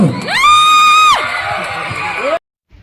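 An audience cheers at a felicitation for tenth-class toppers in Rayadurgam. A loud, rising whistle-like whoop opens it, followed by sustained crowd noise that stops abruptly; distinct claps are hard to pick out.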